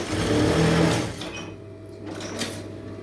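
Sewing machine stitching canvas onto a garment neck: a loud, fast mechanical whirr for about a second and a half, then quieter intermittent running.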